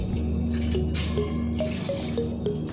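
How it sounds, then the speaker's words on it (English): Water is poured into a cooking pot set on the heat while soup is being made, giving a close, steady trickle with small dripping splashes and no talking. "So I'll be adding in some water,"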